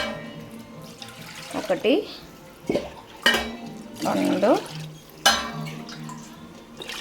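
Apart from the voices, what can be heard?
glasses of water poured into pot for vegetable biryani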